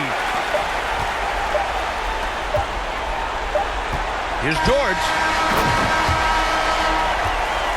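A home crowd cheers and applauds in the basketball video game NBA 2K23 after a game-winning three-pointer. A steady roar of arena noise carries scattered ball bounces and sneaker squeaks, with a commentator talking over it.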